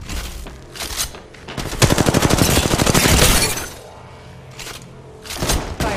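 Rapid automatic gunfire in the mobile battle royale Apex Legends Mobile, a dense sustained burst of shots in the middle with shorter volleys before and after, loud and close with no talking.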